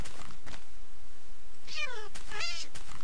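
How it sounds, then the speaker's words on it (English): Ocelots in Minecraft giving short high meows, two distinct cat calls near the end after a quieter start with faint background noise. "Let me get two ocelots, see if they fight with each other."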